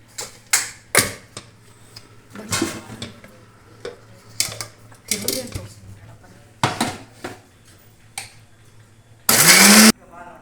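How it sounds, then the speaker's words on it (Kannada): A kitchen mixer grinder blends tamarind with jaggery in short bursts, with clicks and knocks between runs and one loud, steady whirring burst near the end. "ಮಿಕ್ಸಿ ಮಾಡ್ಕೊಂಡು ಬರ್ತೇನೆ ರೀ"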